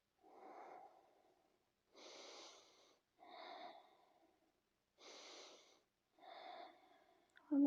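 Slow, deep breaths drawn and released during an aerial yoga stretch, about five long airy inhales and exhales spaced by short pauses, close and fairly soft with a faint wheezy edge.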